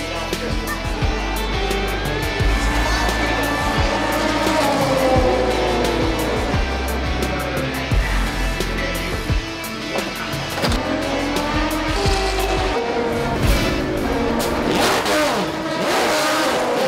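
Prototype and LMP2 endurance race cars battling at the 2017 6 Hours of COTA, engines roaring and revving continuously at close range with passing surges and brief tyre squeal throughout.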